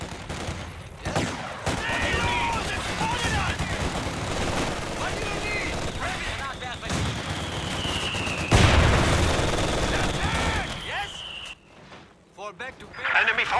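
Battle gunfire and scattered blasts in the World War II strategy game Company of Heroes 2, with German and British forces, sporadic shots under shouted soldier voices and game commands.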